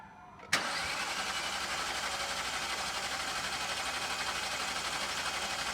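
A Hyundai car with a random multiple-cylinder misfire fault is quiet at first, then cranks and catches with a sharp start and settles into a steady, close idle hum for several seconds.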